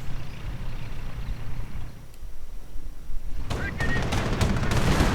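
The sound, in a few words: gunfire in a real-time strategy video game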